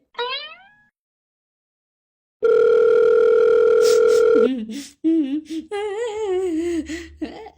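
A telephone tone sounds steadily for about two seconds after a short chirp and a silence, then gives way to warbling, sliding electronic tones, loud and close.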